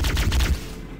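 Rapid burst of energy-weapon fire from a Covenant plasma pistol in Halo: Combat Evolved, loud and close, with a quick pulsing rhythm for about half a second before fading into quieter game ambience.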